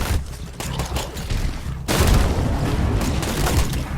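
Gunshots fire steadily in the zombie survival game Night of the Dead on hardcore mode, a rapid stream of shots that swells into a louder, denser barrage halfway through, close and continuous.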